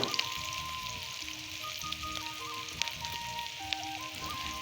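Drumsticks (moringa pods), peas and potatoes fry in a pan with a steady, close sizzle and a few soft pops and crackles throughout, with no voices.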